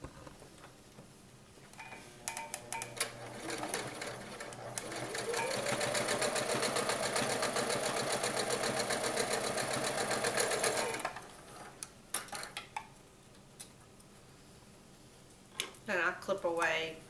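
A sewing machine stitches folded fabric on a pocket face mask, running in one long steady whir of several seconds after scattered clicks and handling, with a voice speaking before and after the stitching.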